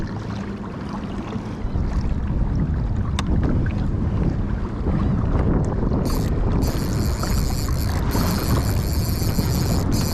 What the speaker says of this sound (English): Big wake coming behind me